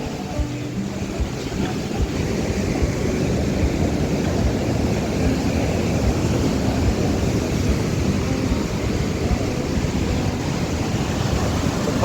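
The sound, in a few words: ocean waves breaking at Juhu Beach, Mumbai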